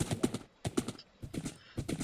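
Horse hooves clip-clopping in Minecraft, a sharp, close series of hoof clicks in uneven pairs with short gaps between them, heard alone without talk.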